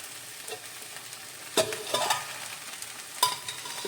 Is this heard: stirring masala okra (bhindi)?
yes